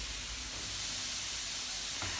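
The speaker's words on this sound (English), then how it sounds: "I want each little bit of broccoli to have a bit of time in contact with the bottom of the pan, and that way it'll get that really lovely charring effect" Broccoli chars in a hot pan with a loud, steady hiss and sizzle that hold evenly throughout, close up, with no talking.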